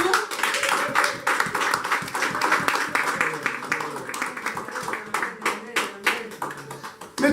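Church congregation at a Sunday worship service clapping in praise, a dense, steady wash of many hands applauding close by for several seconds, with voices and shouts mixed throughout.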